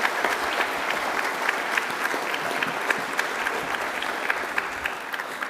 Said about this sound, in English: Can we have another round of applause for everybody who's nominated for our awards?